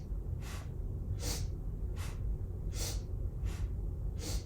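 Rhythmic deep breathing during a flowing yoga movement, with about six airy inhales and exhales alternating evenly, close to the mic over a low background hum.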